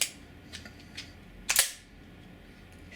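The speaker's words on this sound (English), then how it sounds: "Okay, so first we do is cock the bolt." Bolt of a Scarab Arms TGR2 MK2 gas-powered rubber-round gun with a red 300 FPS spring being cocked: a couple of light mechanical clicks, then a sharper double metallic snap, close in a quiet room.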